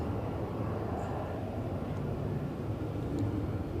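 A passenger aircraft departing Edinburgh Airport in a storm gives off a steady, broad roar from a distance, blended with wind noise throughout and without clear peaks.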